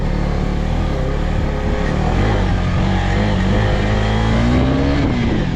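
Motorcycle engine in a time attack race braking and downshifting, loud continuous engine roar with shifting pitch close to the rider, alone without talk.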